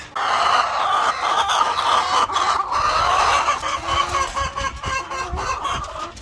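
Many chickens on a farm cluck and squawk continuously together, close and loud, with scattered sharp calls and some rustling underneath.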